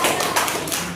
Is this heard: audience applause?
yes